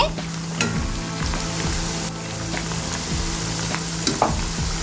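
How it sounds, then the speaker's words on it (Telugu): Onions frying for chicken biryani, sizzling steadily throughout with a few scrapes and clinks of a stirring spoon against the pan, close and alone without talk. "ఇక్కడ ఈ ఆనియన్స్ అన్నీ కూడా చూస్తున్నారు కదా ఇక్కడ గోల్డెన్ బ్రౌన్ కలర్లో వచ్చేంత వరకు కూడా మనం బాగా ఫ్రై చేసేసుకోవాలి"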